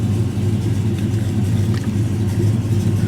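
A Dodge Challenger R/T engine idles steadily while warming up, a continuous low rumble heard close with no other sounds.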